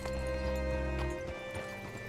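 Hooves clop from a horse in the video game Red Dead Redemption 2 as it is brought up to a hitching post. The footfalls are soft and fairly close and sit under a steady musical drone, with a faint snort or whinny.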